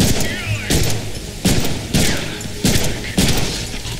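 Weapon fire in a Deadpool video game, loud repeated bursts roughly every half second in a steady rhythm, with a voice faintly present beneath.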